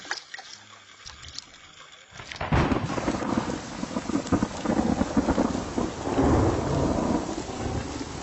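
Heavy tropical rain with thunder by a river in Mamberamo, Papua: a quiet start gives way to a dense, loud downpour with deep rolling thunder rumbling throughout.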